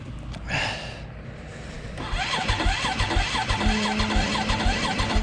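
A cold KTM motorcycle engine with its choke on cranks and catches, then settles into a rough, uneven idle with pulsing revs, close by and loud.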